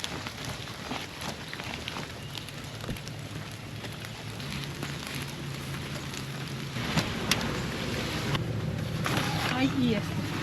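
Steady rain falling outdoors, an even hiss of drops on surfaces that grows slightly heavier toward the end, with people talking over it.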